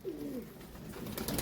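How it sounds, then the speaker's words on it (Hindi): A zeera desi pigeon gives a close, low, throaty coo that rises and falls across a short phrase, over quiet background noise. "ये आ गया ज़ीरा देसी कबूतर है जनाब"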